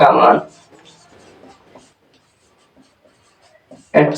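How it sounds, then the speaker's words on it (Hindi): A math equation is written on a classroom board during a Class 10 lesson, with scratchy bursts of writing at the start and end and quiet talk from the teacher in between. "तो यहां पर लिख दे रहा हूं x"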